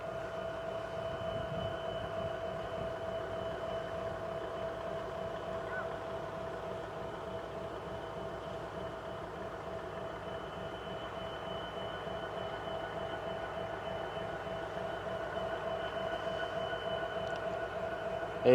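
BNSF diesel locomotives sit idling nearby with a constant, droning engine rumble and a steady tonal hum. The sound stays even for the whole stretch with no voices.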